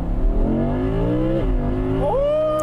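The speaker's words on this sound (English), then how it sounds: "thrashing the engine to get some great noises out of it" A sports car engine revs hard under load in high gear, its loud, sustained tone climbing steadily in pitch with a brief dip before surging higher again, heard alone without talk.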